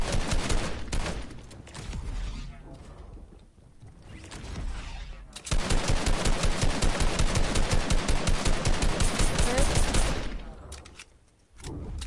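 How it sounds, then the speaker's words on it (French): Rapid assault rifle fire in Fortnite, loud sustained automatic bursts with a brief lull in the middle before a long dense volley, then cutting off. "je vais essayer avec une AR. Vas-y, je vais essayer de tirer."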